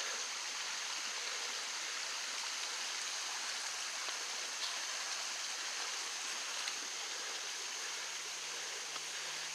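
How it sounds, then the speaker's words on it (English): Creek water flowing steadily along a wooded Kentucky trail, a continuous broad rushing hiss heard alone at moderate level without change. "Get another look down at this creek."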